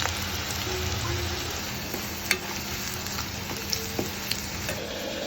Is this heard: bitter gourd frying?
yes